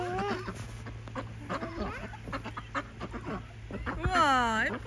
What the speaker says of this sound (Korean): 혜윤아, 우리 오리 보러 가자. 저기 오리 있어